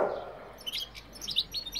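A canary and goldfinches in an aviary give short, high chirps and tweets in scattered bursts, fairly close, following a brief low rustle at the start; no one speaks.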